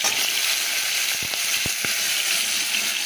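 Pointed gourd (potol) frying in hot oil makes a steady, close sizzle, with several sharp pops bursting through over a few seconds.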